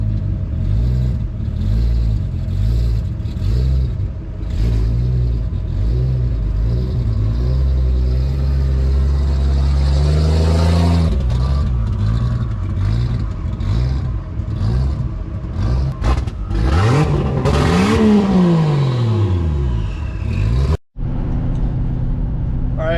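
A turbocharged Chevrolet Trailblazer with an Atlas 4.2 engine drives around, its engine droning and rising in pitch as it revs and accelerates, shifting and surging loudly and close, with no talking.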